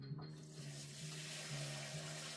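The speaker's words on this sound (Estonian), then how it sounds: "Nii, paneme siis seda vett" Water runs steadily from a tap inside a greenhouse, a soft, continuous rushing stream at low volume with no voices.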